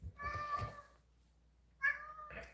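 Two meow-like calls separated by a short pause, clear and close, the first drawn out and the second shorter and rising; it could be a person voicing a cat's meow rather than an actual cat.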